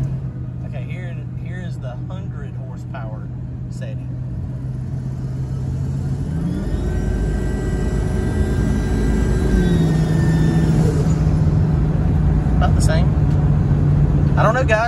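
A Ford 7.3 Powerstroke diesel truck engine runs steadily with a droning low hum, then revs up into a louder, higher whine for a few seconds before settling back, with someone talking over it throughout.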